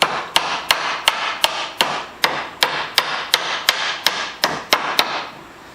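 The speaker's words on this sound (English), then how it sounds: "you want to hit with a hammer using the full handle" A hammer struck repeatedly in a workshop, about fifteen sharp, evenly spaced blows ringing close and loud with brief decays between, no voices present.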